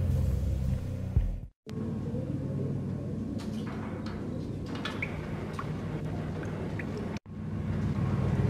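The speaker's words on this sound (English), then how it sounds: "The old service elevator rumbled down to the bowels of Jack Lupino's hotel." An old service elevator in a hotel in the Max Payne video game rumbles steadily as it descends, a dense low drone filling the clip with two brief drops to silence.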